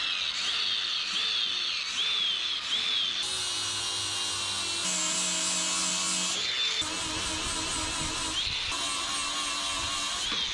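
Power drill boring through domed bolts on a 1978 Chevrolet C10 shop truck, whining in several bursts that change pitch as the load shifts, close and loud with brief pauses between runs.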